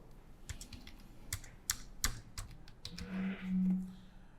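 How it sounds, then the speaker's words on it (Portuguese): Someone types on a computer keyboard at close range, with sparse, irregular clicks and taps and short pauses between keystrokes. "Vamos digitar aqui essas letras que estão bem ruins"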